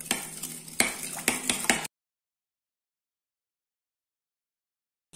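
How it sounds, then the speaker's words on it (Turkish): Spoon stirring a wet pastry mixture of sugar, salt and grape vinegar in a bowl for a savory cheese pastry, with clinking scrapes for about two seconds, then silence. "İyice karıştıralım."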